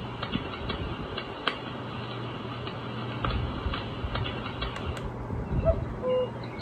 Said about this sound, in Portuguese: barulho de fogueira.